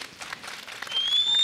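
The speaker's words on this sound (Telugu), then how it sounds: "ఒకసారి వారందరికీ గట్టిగా చప్పట్లు" Applause at a film success meet for the direction department, a brief burst of scattered clapping from a crowd, fairly faint and swelling slightly toward the end.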